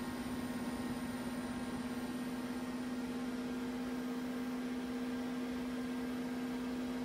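Two 15,000 RPM SCSI hard drives spin inside a Socket 8 PC with a ChainTech CT61TM motherboard, giving a steady, close high whine over a constant whirring hiss with no talking.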